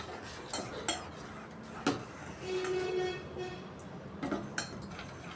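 A spoon stirring dosa batter in a steel vessel after water is poured in, with scattered metallic clinks and scrapes against the rim and a soft wet swirling between them, close and fairly quiet.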